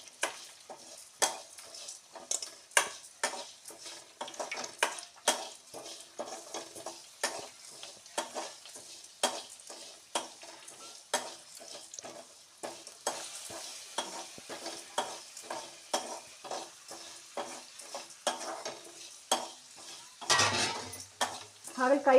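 Bitter gourd frying in oil for a masala palya, a steady sizzle under repeated scraping stir strokes of a spatula against the pan, with a louder burst of clatter near the end.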